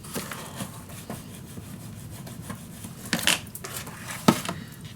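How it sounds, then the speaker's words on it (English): Paper being burnished flat onto a craft storage unit, quiet repeated rubbing and scraping strokes with a few sharper scuffs and taps toward the end, close and alone. "I'm gonna lay this flat and burnish it down on both sides."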